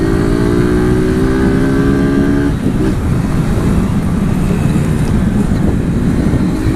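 A motorcycle engine revs loudly in cold rain, a strained rising whine that breaks off midway into rough rumbling and wind-like noise, close and continuous with no voices.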